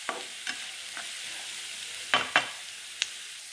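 Onions with ginger and garlic sauté in a pan with a soft, steady sizzle, punctuated by a few sharp clinks and scrapes of a spoon stirring up close.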